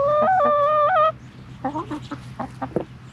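A farm chicken gives a loud, close, tonal squawking call, followed by a run of short clucks that fade to softer, scattered notes over a faint background hum.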